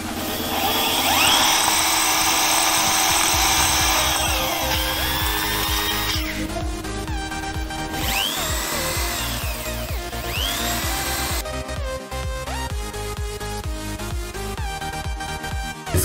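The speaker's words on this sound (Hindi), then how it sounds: "इसके बाद देखिए इसका मिडिल जो है एकदम सेंटर में मैं होल कर रहा हूँ।" A power drill bores a hole through the center of a homemade 450 quadcopter drone frame, giving a loud, close, high-pitched motor whine whose pitch shifts and drops as the bit bites, running continuously without speech.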